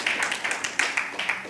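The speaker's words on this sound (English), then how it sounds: "Give yourself a round of applause." Applause from a church congregation during a Sunday service, a short burst of brisk, fairly close clapping with a steady patter that fades slightly toward the end.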